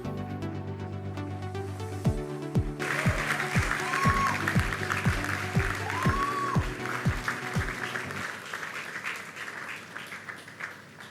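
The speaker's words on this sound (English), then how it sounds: "A round of applause as we make welcome Tunde Onakoya." Applause from a conference audience swells over a loud musical outro with heavy rhythmic bass hits as a speaker is welcomed, then the music cuts and the clapping carries on alone.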